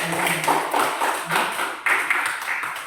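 A class of students claps hands in a classroom, fairly close uneven clapping with distinct sharp slaps and a few voices mixed in.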